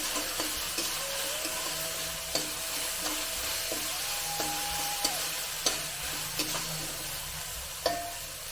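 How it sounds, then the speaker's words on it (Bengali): Garlic and onion paste fries in a pan with a steady sizzle. Sharp scrapes and clinks from a stirring spoon recur throughout, close and clear, with no talking. "রসুন বাটাটা আর পেঁয়াজটাকে ভালো করে ভাজতে হবে"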